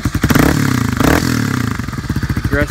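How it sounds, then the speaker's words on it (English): A 2009 Kawasaki KLX250S dual-sport bike with an aftermarket exhaust, its single-cylinder four-stroke engine barking through sharp throttle blips and revs, loud and close, with choppy pulsing between bursts. "Aggressive single cylinder 4-stroke sound."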